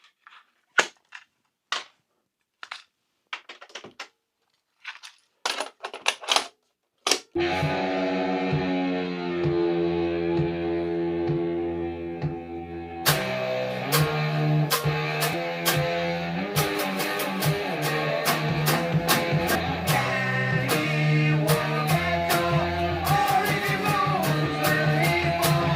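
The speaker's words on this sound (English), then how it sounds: "I'm also going to be playing this on the very same model practice amp." An electric guitar runs through a small practice amp playing a riff. A few sharp clicks and taps come first, then a dense, raw, distorted chord riff starts and grows fuller partway through, loud and close.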